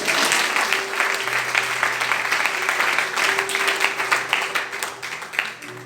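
A church congregation applauding steadily and loudly for several seconds, dense overlapping claps filling the room with a faint sustained tone underneath.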